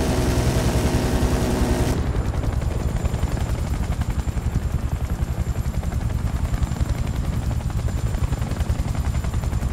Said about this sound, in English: I'm in a helicopter.